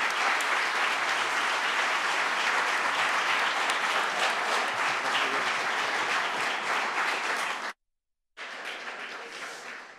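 Sustained applause from a congress audience at an inaugural session in Barcelona, dense and steady for most of the stretch, cutting out abruptly near the end before resuming briefly.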